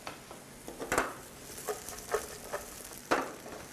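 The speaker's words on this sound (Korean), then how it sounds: "네, 충분히 볶아줍니다." Boiled peanuts and Chinese artichokes stir-fry in a pan with a little cooking oil, giving a soft sizzle broken by several sharp scrapes and clatters of a utensil against the pan at irregular intervals.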